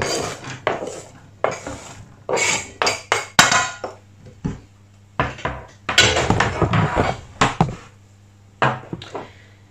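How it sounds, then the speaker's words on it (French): Food scraped and tipped back into a frying pan, a string of sharp metallic clanks and scrapes of utensil against pan in irregular bursts with short pauses between, close and clear with no speech. "On transvase donc de nouveau dans la poêle."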